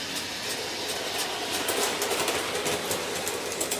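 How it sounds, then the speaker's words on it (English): An O gauge model GG1 electric locomotive runs along its layout with a steady rolling hum and rapid rhythmic clicking over the track, close and continuous without talk. "I wanted to run my GG1 engine."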